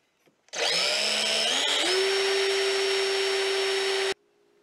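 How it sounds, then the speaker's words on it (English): A drill bores into a Pro Mac 10-10 chainsaw part in a workshop, starting with a rising whine that settles into a steady, loud, even drone for about three and a half seconds before cutting off abruptly, with no talk. "And we are drilling."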